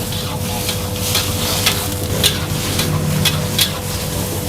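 Capcay vegetables with oyster sauce being stirred in a hot wok, a steady sizzle under repeated scraping strokes of the spatula against the pan, close and continuous.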